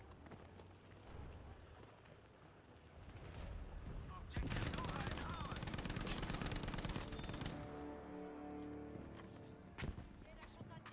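Dense bursts of rapid gunfire crackle continuously under a busy mix of other game noise, with voices talking over it.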